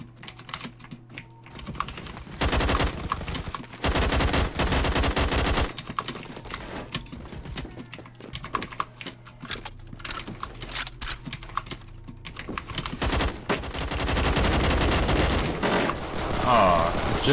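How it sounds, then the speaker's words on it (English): Assault rifle gunfire in a video game, heard as sharp bursts and rapid shots mixed with clattering keyboard typing, loudness rising and falling across the stretch. "I'm so glad so many people use assault rifles."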